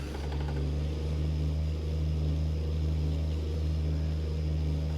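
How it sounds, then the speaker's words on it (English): Low steady drone of a Cummins N14 diesel engine idling in a heavy truck in American Truck Simulator, with strong sustained low harmonics and no talk over it. "Need to get her out on the road so we can hear this Cummins N14."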